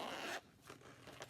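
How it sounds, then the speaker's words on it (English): A zipper zips quickly once in a long rasping pull, followed by a few shorter, softer zip sounds nearby. "Sorry about the zipper."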